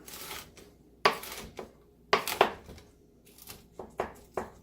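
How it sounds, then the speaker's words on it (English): Six pieces of bacon being cut up on a board, a series of sharp knife chops in irregular bursts, close and crisp with quiet pauses between. "Alright, so that's just 6 pieces of bacon here. And we're just going to cut it up"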